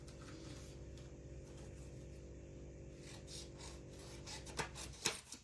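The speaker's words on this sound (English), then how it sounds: "I'm just going to trim these up." Paper pieces for card making are trimmed on a paper trimmer, giving soft rubbing slides over a faint steady hum, with a few sharper, louder swipes near the end.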